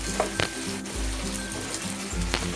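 Pork adobo ingredients sizzle in a pan while being stirred, a moderate steady frying hiss punctuated by a few scraping strokes, close with no speech.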